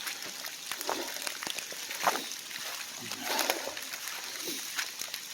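Boots splashing and sloshing through deep floodwater near a partly frozen creek, with irregular close wet steps and splatters across the stretch; a faint voice or two sits underneath.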